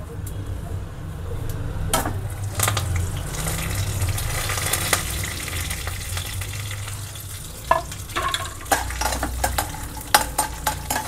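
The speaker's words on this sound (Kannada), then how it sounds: "ಗೋಲ್ಡನ್ ಕಲರ್ ಬರೋ ತನಕನೂ ಫ್ರೈ ಮಾಡಬೇಕು" Chana dal and urad dal fry in hot oil over a medium flame, giving a steady close sizzle broken by scraping stirs and sharp clicks of a spoon against the pan, with no talking.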